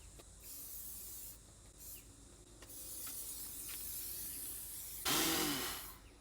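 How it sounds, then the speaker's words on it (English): A long, loud burst of aerosol spray hissing close by, preceded by fainter short sprays and rustling. "I'm just going to spray you close."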